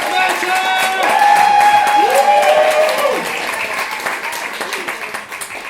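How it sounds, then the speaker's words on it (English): Comedy club audience applauding to welcome the next act onto the stage, a steady wash of clapping that swells to a peak then slowly thins, with scattered cheers and whoops mixed in. "let's get that round of applause going"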